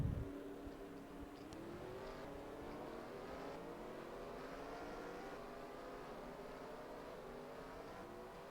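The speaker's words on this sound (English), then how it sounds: "Drivers, start your engines. So all cars are preparing to line up." Indy race car engines drone steadily as the cars line up behind the pace car. A continuous, fairly loud engine tone slowly rises in pitch over several seconds after a brief low thump at the start.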